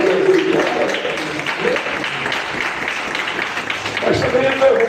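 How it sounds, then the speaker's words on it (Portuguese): Church congregation clapping in praise during a sermon, a loose wash of hand claps mixed with raised voices and singing-like tones, fairly loud and busy throughout. "Palmas de vitória."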